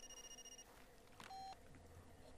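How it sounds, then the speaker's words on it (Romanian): A telephone ringing in the video game Far Cry 2, with short electronic tone bursts at the start and a brief steady ring in the middle over a quiet game background. "Ia, iar sună telefonul."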